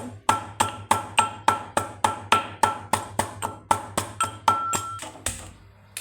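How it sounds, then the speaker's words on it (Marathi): Steady rhythmic pounding, about twenty sharp thuds in quick succession as garlic is crushed in a mortar, close and alone. "मी आता लसूण वाटून घेईल"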